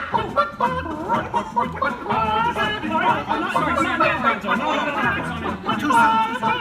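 A Muppet chorus of chickens at a Disney World show clucks and cackles in a busy, overlapping flurry. Performers' voices imitate the clucking, and other voices chatter alongside.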